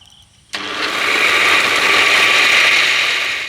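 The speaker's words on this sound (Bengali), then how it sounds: "এবার ঢাকা দিয়ে আমি মিক্সিতে ঘুরিয়ে একটা পেস্ট তৈরি করে নেব" A mixer grinder starts abruptly and runs at a loud, steady whir, blending soaked flattened rice (chira) with water into a paste, its motor holding a constant pitch with slight rise as it spins up.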